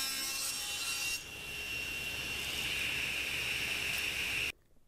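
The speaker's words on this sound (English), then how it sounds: "I got back to the saw and finished up the taper cuts." A saw makes taper cuts on solid walnut desk legs: a continuous, close grinding rasp with a brief dip partway through, then the cutting stops abruptly near the end.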